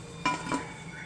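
Two quick clinks of a utensil against a dish as crispy, golden-brown fried sprouts are lifted out and placed on a plate, close and short, with a low kitchen hum behind.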